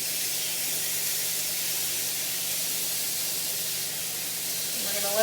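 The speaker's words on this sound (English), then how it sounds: "this steak has been searing on the one side" Steak searing in a hot pan gives a steady, dense, close hiss of sizzling fat that holds evenly throughout, with a faint voice near the end.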